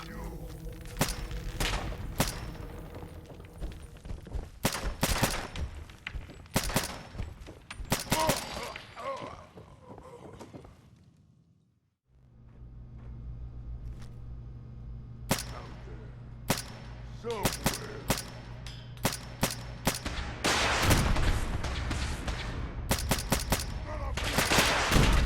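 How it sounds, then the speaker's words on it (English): Gunfire from the Fallout 4 video game with a modded suppressed 10mm weapon sound: rapid bursts of sharp shots, a brief silent pause midway, then more volleys of loud, crisp reports. "We also chose to install the optional suppressed 10mm replacement sound file, which gives a more realistic sound to the weapon."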